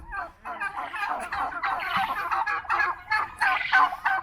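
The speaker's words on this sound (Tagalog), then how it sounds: "Ayan yung mga malalaking turkey, oh. Ayan, nag-wrestling, oh." Several large turkeys gobble and squabble close by in a pen, their harsh, rapid gobbles overlapping in bursts throughout with no pauses.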